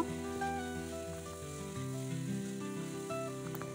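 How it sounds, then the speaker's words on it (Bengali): Potatoes with salt fry in a pan of oil with onion and chili, a quiet steady sizzle beneath background music, continuous and even. "আলুটা লবণ দিয়ে একটু ভাজা ভাজা করে নেব।"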